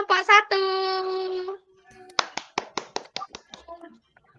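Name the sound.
classroom applause for group 1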